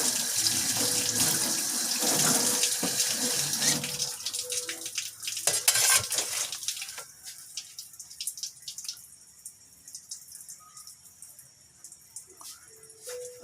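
Tap water runs into a sink while fish are washed, a steady close splashing that drops to a quieter trickle with scattered drips and light clinks.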